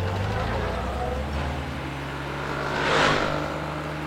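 A road vehicle's engine rumbles low and steady, then swells briefly as it draws near and passes, heard under a voice in a Tamil film scene.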